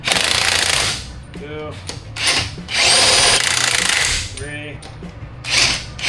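A power tool tightens lug nuts on a Ram 1500 wheel in loud repeated bursts of whirring and rattling hammering, each a second or so long, while a voice counts between them.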